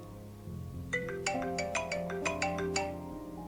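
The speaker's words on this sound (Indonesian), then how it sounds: "Telepon Mas Kai berbunyi." A mobile phone ringtone plays a bright, bouncy melodic tune of repeated notes, clear and fairly close over faint background music.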